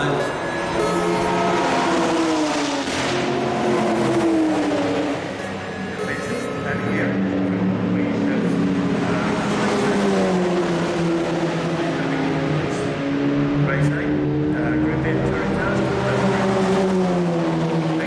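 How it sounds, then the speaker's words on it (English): A VW Golf race car drifts around a circuit at a historic racing meeting, its engine droning and shifting pitch continuously, with a commentator talking over it throughout. "He's drifting through the quarters in that VW Golf."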